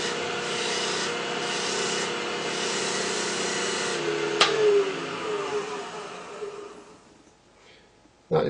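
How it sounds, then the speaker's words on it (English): A natural bristle brush burnishes turned wood on a spinning lathe, giving a steady close rubbing rasp that runs for several seconds, then fades out near the end before a short bump. "we're going to remove some of these little fibres that have risen up once again with the natural bristle brush"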